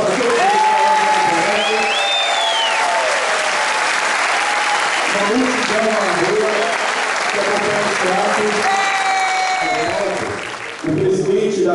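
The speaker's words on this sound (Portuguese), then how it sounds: "uma salva de palmas para todos" A large crowd at a political rally in support of Petrobras bursts into sustained loud applause with cheering voices, continuous and dense before briefly dipping near the end.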